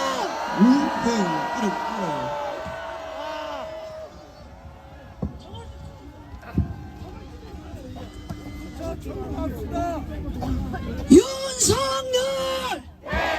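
Crowd at a rally opposing an impeachment, in front of Korea's Corruption Investigation Office, shouting and cheering in loud bursts, with a leader's amplified voice urging them on and rhythmic yells building to a peak near the end.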